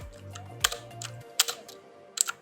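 Keystrokes on a computer keyboard tapping out a command in a few quick bursts, crisp and close, with a faint low hum underneath and no talking.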